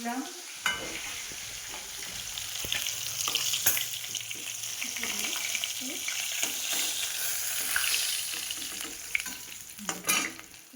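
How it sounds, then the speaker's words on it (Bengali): Steady sizzling and crackling of fish frying in hot oil, close and continuous, with a few faint clicks of a utensil stirring. "মাছটা ওরকম লাল লাল করে ভেজে তুলে নেবো"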